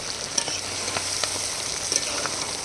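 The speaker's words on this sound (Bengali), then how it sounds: "আলাদা করে কিন্তু কোনো তেল ব্যবহার করা হয়নি মাংসগুলো কষিয়ে নিয়েছি" Country chicken pieces frying in their own rendered fat with no added oil, a dense continuous sizzle close up with light stirring scrapes scattered through it.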